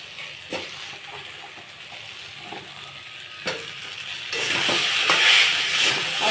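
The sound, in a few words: taro and potatoes frying in spices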